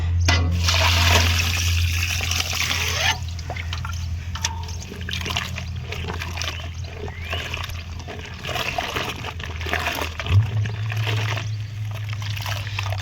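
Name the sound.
water rinsing naturally dyed cloth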